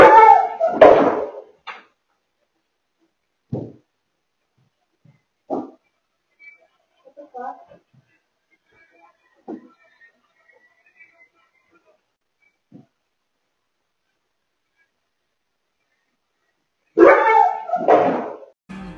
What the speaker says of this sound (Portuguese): o cachorro voou